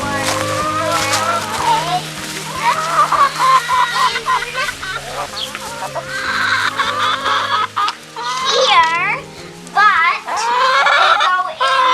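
Chickens cluck and squawk continuously on a farm, busy overlapping calls close by with a few sharper cries, while people talk in the background.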